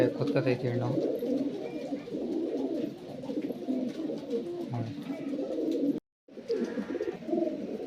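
Pigeons in a loft coo in low, throaty bursts that repeat steadily over a constant background murmur, fairly close, with a brief dropout near the end.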